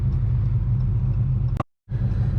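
A cammed widebody Dodge Challenger Scat Pack with an FRP F16 cam rumbles at a loud, steady, lumpy idle close by, cutting out abruptly for a moment before resuming.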